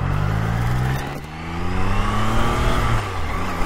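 A Triumph Tiger Sport 660 motorcycle pulls away in first gear, its engine note rising steadily and loud and close as it accelerates from a standstill, with no talk over it.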